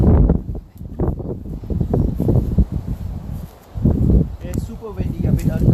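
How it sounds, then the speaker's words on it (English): Strong gusting wind buffets the microphone outdoors in a garden, a loud, rumbling low roar that rises and falls in uneven bursts throughout. "It's super windy, a bit uncomfortable"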